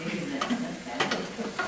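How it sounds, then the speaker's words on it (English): Chili hot sauce sizzles steadily in a pan as it is stirred, with short clinks from the stirring utensil partway through; the frying hiss stays close and constant. "Can definitely hear the sizzle."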